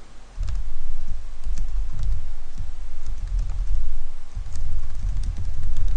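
A computer keyboard is typed on up close in uneven bursts of clicking keystrokes over a low, thumpy background.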